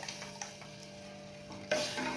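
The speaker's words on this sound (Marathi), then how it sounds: "आता आपण हे तयार केलेलं मिश्रण व्यवस्थित ढवळून घ्यायचंय" A spoon stirs a kadhi pakoda mixture in a pot, giving a couple of light scrapes and clicks and then a louder swish near the end of the short stretch, with no voices.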